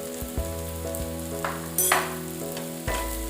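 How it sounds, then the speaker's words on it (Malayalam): Spices and chili powder sauté in a pan for a tapioca and beef ribs dish, giving a close, steady sizzle with a few sharp stirring scrapes over a short stretch. "ഇനി നല്ലപോലെ ഒന്ന് വഴറ്റാം. നമുക്ക് വഴറ്റിയിട്ട് ഇറച്ചി കൂടി ഇട്ട് കൊടുക്കാം."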